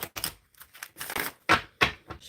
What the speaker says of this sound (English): Okay, shuffling for Starry.